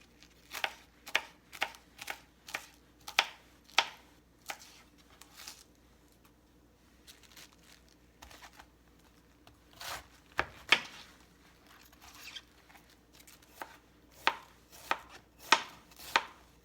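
Knife chopping cabbage for a small batch of sauerkraut on a board, crisp crunchy cuts in quick bursts separated by short pauses, close and clear with no talking.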